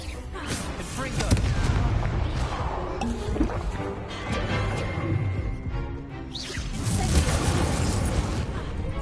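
A Confringo fire spell explodes in Hogwarts Legacy, a loud continuous rumble of blasts and crackling under game music and effects, with a second burst swelling near the end.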